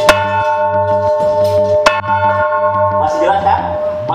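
A 278-year-old museum bell in an old town rings out in two loud, sustained strikes with long ringing overtones, followed by a fainter murmur of people talking nearby.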